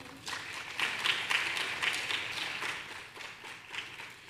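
Scattered applause from an audience at a dental aesthetics conference, a moderate patter of clapping with a few sharper claps standing out.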